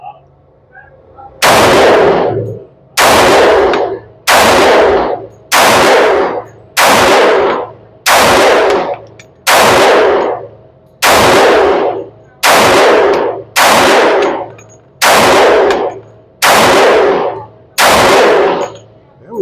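Twelve loud, close pistol shots from a Glock 20C 10mm at an outdoor range, fired at a slow, steady pace about one and a half seconds apart, each crack ringing briefly.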